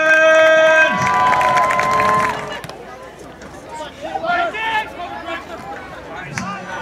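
Soccer fans at a Dayton Dutch Lions match cheer and shout after a loud electronic horn blast fades, crowd noise swelling in bursts with scattered children's yells and babble mixed in.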